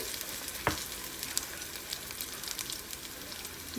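Fish shallow-frying in a little oil, giving a soft continuous crackle and sizzle with a few sharper pops, close but fairly quiet, and no voices.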